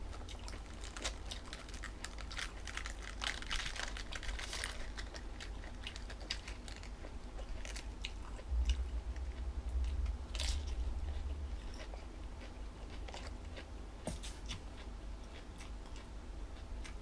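Jellyfish eaten with seafood dipping sauce gives off close, faint, irregular crunchy chewing clicks that run steadily over a low background hum, with no voices.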